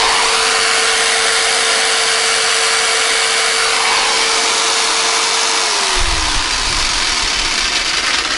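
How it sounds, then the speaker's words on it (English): A jigsaw plugged into a power inverter runs as a loud, steady, high buzzing whine. Its tone sags slightly before a lower rumble sets in near the end. "Now I'll plug in my jigsaw and see what happens."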